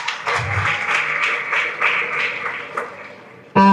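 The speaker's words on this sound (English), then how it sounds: "Kindly let's clap for her as she comes to the front." An audience at a Model United Nations conference in Kenya claps for a panelist coming to the front, a burst of mixed clapping lasting a few seconds, ending in a sudden loud tonal sound.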